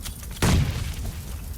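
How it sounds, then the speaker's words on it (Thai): A sudden loud boom bursts out, then decays into crackling rumble as a car explodes in PUBG Mobile, with background noise before it. "รถระเบิดแล้วเหรอพี่ใช่ระเบิดแล้วระเบิดแล้ว"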